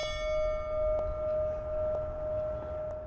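A memorial bell tolled by a firefighter at a 9/11 anniversary ceremony in Madison rings with a sustained, clear tone, struck about four times at roughly one-second intervals, each ring lingering over the last and sounding moderately close.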